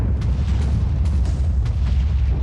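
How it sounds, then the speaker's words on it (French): Deep, rumbling explosion from placing a block in a Minecraft mod, a loud low boom with crackling bursts layered on top, continuous for a couple of seconds with no voices. "L'Epic Block, quand on le pose, ça fait une explosion."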